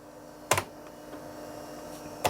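Two sharp, close clicks of keys pressed on an old Amstrad PC2086 computer keyboard, about two seconds apart over a quiet room hum.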